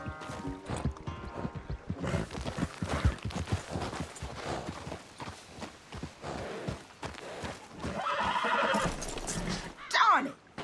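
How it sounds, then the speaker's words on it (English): A horse in Red Dead Redemption 2 whinnies loudly at the end, after hoof clip-clops and a voice talking over the earlier stretch. "Damn horse acting up on me."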